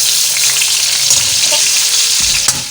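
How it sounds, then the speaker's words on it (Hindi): Eggplant slices fry in oil for Hyderabadi Baghare Baigan, making a loud, close, constant sizzle that crackles throughout, with a brief clink near the end. "अब मैं इनको दूसरी तरफ से जो है फ्राई कर रही हूँ"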